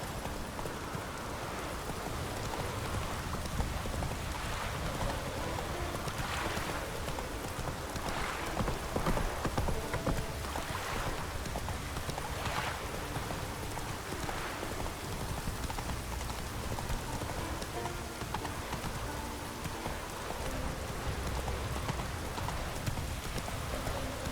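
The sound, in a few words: horse hooves clip-clopping in rain, video game Witcher 3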